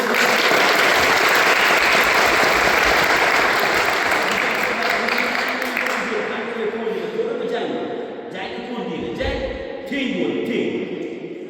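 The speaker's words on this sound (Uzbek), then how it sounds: "Bu bola mahoratiga buni olqishlaymiz." Audience at a boxing match applauding, a loud sustained round of clapping that gradually thins out, with voices talking over the tail end.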